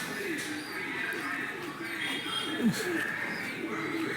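Racing pigeons coo in soft, repeated low calls amid a busy bird-filled setting, with a voice talking in the background.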